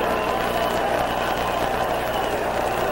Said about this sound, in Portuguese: a galera grita o nome do Zico